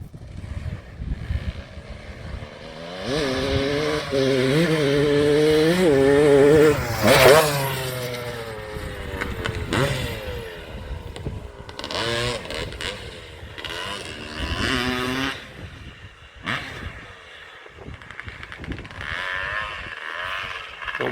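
A Kawasaki KX250 two-stroke dirt bike, running rich and smoking heavily, idles and revs up and down outdoors, its raspy engine note rising and falling loudly and close by.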